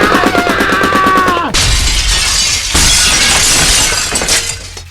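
Glass shatters loudly in a sharp crash right after a ringing, rhythmic tone, and a second burst of breaking fragments follows a moment later, scattering and trailing off into faint tinkling.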